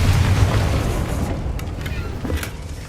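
Confringo spell explosion in Hogwarts Legacy, a deep booming blast that rumbles loudly and slowly decays, with a few smaller pops trailing behind it.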